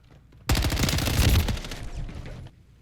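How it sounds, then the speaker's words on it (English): A rapid burst of automatic fire from the Chimera hybrid weapon in a shooter game, loud and close, lasting about two seconds before cutting off. "I'm putting bullets in him."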